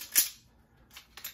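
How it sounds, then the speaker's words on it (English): A revolver trigger breaks during speed reload practice, giving a sharp snap at the start and then two softer clicks about a second later, close and with no talk. "this trigger breaking is me setting my timer to do my reload"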